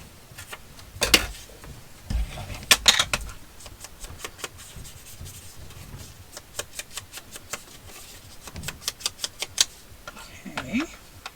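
Scissors snipping paper for handmade ephemera, a series of crisp, close cuts in irregular bursts, with a short pause and a few scattered rustles between them.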